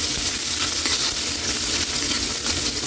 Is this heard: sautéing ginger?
yes